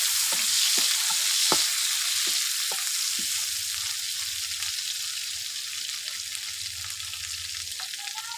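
Chopped onion and tomato fry in mustard oil with a steady broadband sizzle, broken early on by a few sharp clicks of stirring, then settling into a constant hiss.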